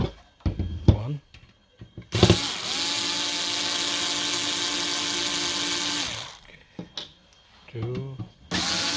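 Small powered screwdriver whirs steadily for about four seconds while backing out the case screws on a Hilook 4 channel Q Series DVR, with shorter handling noises and brief speech before and after.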